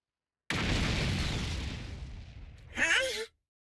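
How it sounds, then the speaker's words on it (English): A body-implanted bomb detonates in The Hundred Line: Last Defense Academy, a loud sustained blast with rumbling low end that decays over a few seconds, followed by a brief burst of voiced exclamation. "The sponsor pressed the detonation button for the bomb in my body."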